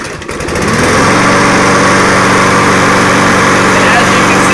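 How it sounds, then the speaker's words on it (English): A small-engine lawn mower, just repaired after a carburetor problem, cranks and catches, then runs loud and steady at high revs close by with a constant buzzing drone. "So now that we got this mower running for our customer"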